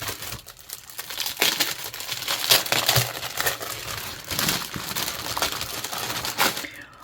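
Plastic wrapping on a scrapbooking set crinkles and crackles continuously as it is opened, a close, fairly loud rustling that swells and eases in bursts throughout.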